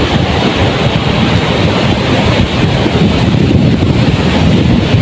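Big sea waves roll and crash steadily at a beach resort in Real, Quezon, a loud, continuous wash of surf mixed with gusting wind buffeting the microphone throughout.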